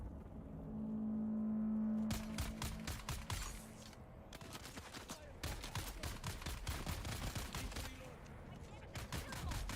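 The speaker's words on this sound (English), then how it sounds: "You wait until my magic missile reloads." Rapid repeated weapon fire from a magic missile in the Dune Awakening video game sounds in dense bursts of sharp cracks, with brief gaps between volleys.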